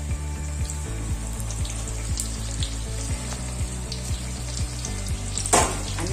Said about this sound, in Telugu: ముందుగా వేయించి పెట్టుకునే ఈ బజ్జీలను కూడా ఇప్పుడు ఈ ఆయిల్లోకే వేస్తున్నాను.